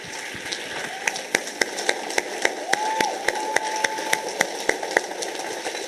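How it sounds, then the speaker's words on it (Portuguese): A church audience applauds the fathers with scattered, sharp claps over a broad, steady background wash, individual hand strikes popping out irregularly at moderate distance. "vamos aplaudir esses homens maravilhosos"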